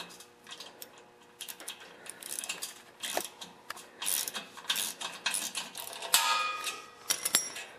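Repeated metallic clicks and ratcheting turns of a 10-32 tap cutting threads into thin metal on a welding cart, close and fairly quiet, in irregular bursts with brief pauses between strokes.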